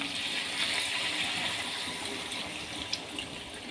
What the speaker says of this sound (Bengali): এবার আমি এই যে জল দিয়ে দিচ্ছি